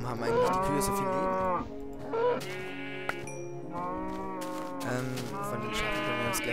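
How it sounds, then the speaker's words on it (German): Cows moo in Minecraft, several long drawn-out lowing calls following one another, loud and near, with no talking over them. "Gott, warum haben eigentlich die Kühe so viel Leben?"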